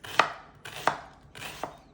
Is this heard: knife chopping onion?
yes